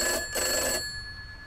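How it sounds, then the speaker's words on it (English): A telephone bell rings in two loud, close bursts, the second cutting off and leaving a quiet fade. "It's just a phone. Nothing to be afraid of."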